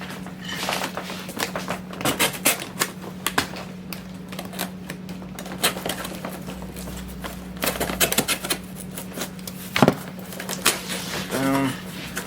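Cardboard is cut for a custom shipping box, giving sharp, irregular snips and crunches in quick bursts against a low steady hum, close and moderately loud, with no voices.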